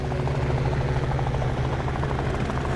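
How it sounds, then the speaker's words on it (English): Military helicopters in a noir adventure game fly overhead in a steady, loud, continuous rotor drone with a throbbing low thrum, no voices. "Military choppers!"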